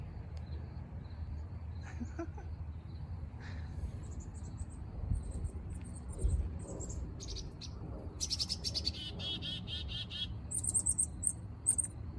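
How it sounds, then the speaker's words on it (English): Small songbird calls outdoors, attributed to a chickadee: scattered high chirps and short bursts of tweets, moderately near, over a steady low background rumble and faint insect-like trills, with no talking. "I see you, little chickadee."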